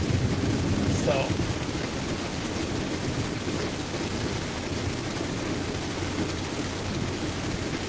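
Steady rain falls during a thunderstorm in Winona County, Minnesota, a continuous broadband wash heard close and even throughout, with no clear thunder standing out.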